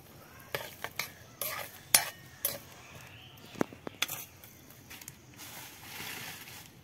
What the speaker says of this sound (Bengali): এখানে 3 চামচ চিনি দিয়ে দেবো।